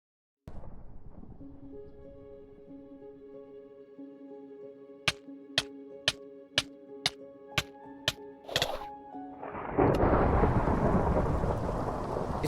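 A Minecraft Vault Hunters scene in which rain begins to fall. Steady sharp ticks come first, then a loud, dense hiss of rainfall that keeps going to the end, with no voices.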